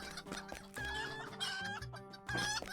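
Chickens in a video game chicken run clucking and squawking continuously, several birds layered close together with an occasional crow-like call, busy and steady throughout.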